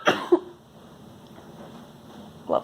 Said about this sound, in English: Lovely coughs.